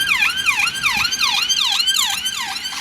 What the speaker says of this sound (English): Bit of ambulance work there.